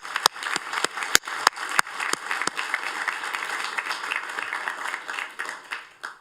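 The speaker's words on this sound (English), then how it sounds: "how about we give them a round of applause?" Audience applause at a scholarship awards ceremony, a steady wash of many hands clapping with a few sharp, close claps standing out at the start, sustained for several seconds before tapering off.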